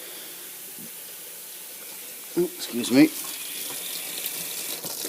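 A tap runs into a bucket in a workshop, a soft steady stream with a brief louder splashing burst midway, and a voice briefly speaks.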